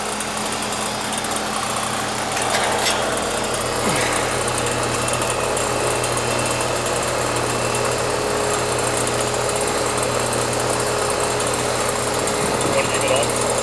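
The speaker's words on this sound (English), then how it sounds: "Sound like the compressor's running." A central air conditioner outdoor unit hums and drones steadily at close range for the whole stretch, as a failing unit with its compressor running. A voice talks over the constant mechanical noise.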